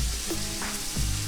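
Finely chopped onion fries in hot oil for muttai kothu idli, a brief, steady close sizzle with a couple of soft stirring knocks and no voices.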